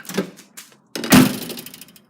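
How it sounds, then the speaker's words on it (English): A Holden VT car door is shut once with a heavy thunk near the middle, preceded by softer handling clatter and followed by a brief rattle as a broken spring sounds off, close by and with no talk. "It's when you shut the door."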